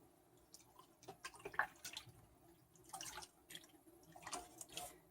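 Dish soap goes into a sink of hot water for scouring wool, making soft, scattered drips and small liquid splashes in irregular bursts. The sound is quiet and close, with no talking.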